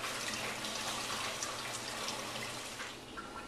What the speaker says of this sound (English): You just want to lightly pour this water over it to get all the rest of the flavors out of there.